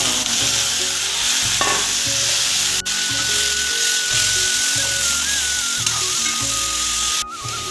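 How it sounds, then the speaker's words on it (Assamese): Meat dropped into hot mustard oil in a pan for a meat curry, sizzling and frying loudly and steadily with scraping stirs throughout, a faint whine in the background. "এতিয়া মাংসখিনিও দি দিম ইয়াত"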